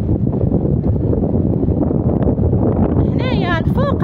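Strong wind at Badouza beach in Safi, Morocco, roars steadily and buffets the microphone throughout, with a brief wavering whistle near the end.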